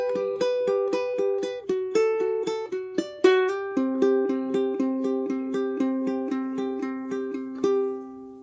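Slow fingerstyle ukulele picking of the intro bar of a song from The Greatest Showman, clear plucked notes with ringing chords in a gentle steady rhythm, played alone and close.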